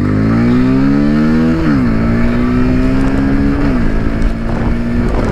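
A Bajaj Pulsar 125 motorcycle engine (2023 E20 BS7 model) is held at high revs, loud and close, with no one speaking; the whine climbs, dips briefly twice, then climbs again.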